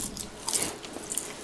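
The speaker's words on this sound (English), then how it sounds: "All the audio is just gonna be us eating popcorn." Popcorn is eaten close to the mic during a Mario Kart session, giving irregular crisp crunches and bites in quick bursts over a low background hum.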